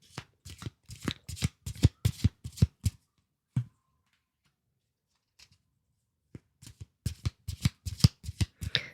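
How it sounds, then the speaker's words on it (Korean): A tarot deck shuffled by hand in quick bursts of riffling snaps, a long run of crisp card flicks, a short pause with a few stray taps, then another rapid flurry close to the listener. "좀 더 제가 추가 카드 뽑아 보도록 하겠습니다"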